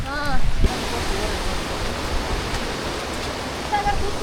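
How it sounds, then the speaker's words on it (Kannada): Steady broadband rush of river water flowing from Dudhsagar under a bridge, continuous and fairly loud, with a brief voice at the very start. "ದೂದ್ ಸಾಗರದಿಂದ ನೀರು ಹರಿದು ಬರತ್ತದ್ರಿ ಗೈಸ್ ಇಲ್ಲಿ"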